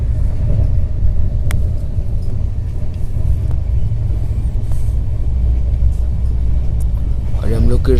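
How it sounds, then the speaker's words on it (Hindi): An express train running at speed on an Indian route toward Secunderabad gives a continuous heavy rumble from on board, steady and loud throughout, with faint voices in the background. "ट्रेन काफ़ी रफ्तार से आगे बढ़ रही है अपनी मंजिल की ओर"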